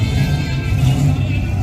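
A fast BMW drag car at an outlaw heads-up drag race accelerating hard, a loud, close, continuous engine roar with deep rumble that holds steady throughout.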